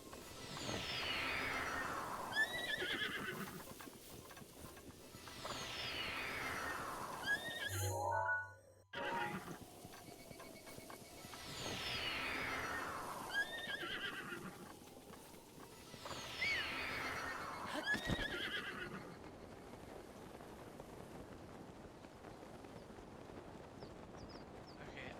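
A horse in Zelda: Breath of the Wild whinnies four times in long, falling neighs at fairly even intervals, over steady outdoor ambience with faint hoof clatter.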